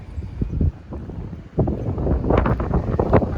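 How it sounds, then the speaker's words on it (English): Wind buffets the microphone in uneven gusts, producing loud low rumbling and crackling, with no voices. "It's very windy today"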